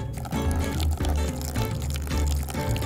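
Water pours onto a small plant in a doll play scene, a steady trickling gush running continuously with slight pulses in the flow, close and fairly loud, without talk.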